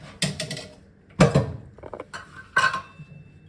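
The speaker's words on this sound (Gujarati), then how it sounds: "તેલને બરાબર મિક્સ કરી દઈશું આપણે।" Oil is worked by hand into a bajra (pearl millet) flour batter in a bowl, giving three short, close, squelching bursts separated by brief quiet gaps.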